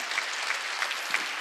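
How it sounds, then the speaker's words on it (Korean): Applause from a church congregation at a Wednesday worship service, a continuous crackling patter of many hands, fairly soft and even, with a few slightly sharper claps poking through. "박수를 치려면 치라고"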